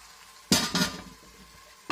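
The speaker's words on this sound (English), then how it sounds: "I'm going to put the lid on" A metal lid set down on a cooking pot of tomato and eggplant curry, two close clattering knocks in quick succession, followed by a third brief clink a moment later, with no talk.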